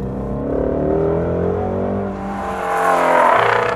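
A 2017 Ford Mustang Shelby GT350's V8 engine revs up and settles, loud and close, its deep rumble climbing to a rasping high-rpm roar before easing back.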